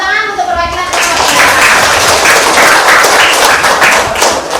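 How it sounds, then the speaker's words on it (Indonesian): A classroom of students breaks into loud, close applause after a brief spoken prompt, with fast, slightly uneven hand claps that settle into a rhythmic pattern. "Tepuk tangan untuk perwakilan kelompok"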